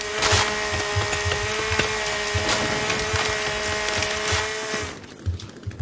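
Chainsaw from The Forest survival game cutting wood: a steady high whining engine tone with rapid rhythmic chopping bites for about five seconds, then it cuts off abruptly, leaving a few faint thuds.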